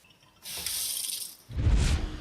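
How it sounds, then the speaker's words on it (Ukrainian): Aeration units churning the water of the Desna river near Kyiv give a rushing, splashing roar that starts abruptly and then swells louder and deeper with heavy turbulence. "Над Десною стоїть гул, а вода вирує. Це працюють спеціальні установки, котрі насичують річку киснем."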